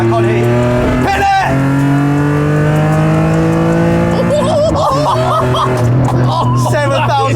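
A rare Alfa Romeo engine, built up for B-road driving, drones loudly from inside the car and climbs in pitch as it revs hard toward 7,000 RPM, with people talking over the engine noise.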